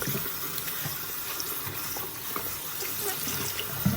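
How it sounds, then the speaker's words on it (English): Sink tap water running steadily over a plastic bowl used for dyeing a synthetic wig: close, continuous splashing and rushing of water throughout. "And rinse this one out."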